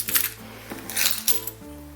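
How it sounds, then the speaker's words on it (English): Metal keys jingle and clink on a leather key fob attached to a leather diaper bag, several quick bright chinks close by over a low steady hum. "The Madeline does come with this great leather key fob, so I have my keys on that."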